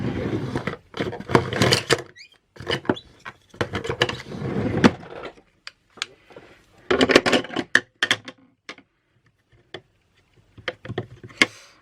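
Rubber stamps pressed onto paper while decorating a manga-themed page, in irregular clusters of dry taps and thumps with short silent gaps between them, heard close up with no talking.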